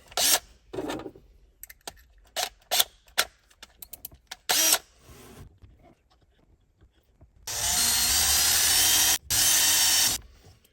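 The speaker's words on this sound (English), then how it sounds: "I'm gonna get that pre-drilled hole a little bit better" Power drill boring a hole during a pedal set installation in a 987 Porsche Cayman S, first short bursts and taps, then two sustained loud runs of whirring, near and without talk.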